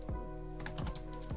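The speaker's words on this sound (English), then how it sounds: "all you have to do is type in move" Computer keyboard typing a terminal command: a few quick keystrokes clicking close up, alone and clear.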